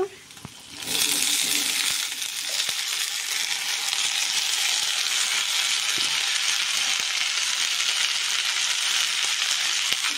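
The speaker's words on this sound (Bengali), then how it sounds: "এখন কেটে রাখা রামাইশ আর আলুগুলোকে ছেড়ে দেব গরম তেলের মধ্যে" Sliced ramaish and potatoes go into hot oil with a sudden loud, steady sizzle that fills the whole stretch close up, with faint clicks underneath.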